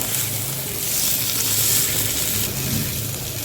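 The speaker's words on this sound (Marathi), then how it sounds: "छान चरचर असं भाजून घ्यायचं पाव." Pav bread toasting on a hot pan makes a loud, dense crackling sizzle that runs steadily for a few seconds, close up and with no voices.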